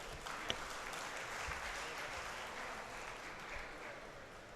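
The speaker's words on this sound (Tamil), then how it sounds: "ஒரு தடவை கூட நல்லா கைத்தட்டல் கொடுத்துடலாம்." Steady audience applause at a Rotary International District 3212 annual fund conclave, a continuous even patter of clapping from the gathered crowd, moderately distant and without talk.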